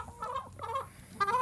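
Hens and a rooster in a backyard flock cluck in short, close, repeated bursts with no voices.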